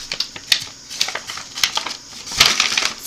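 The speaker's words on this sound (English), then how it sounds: "I'll just use these scissors." Crisp snipping and crunching sounds in quick, irregular bursts, close by, like scissors cutting through yarn.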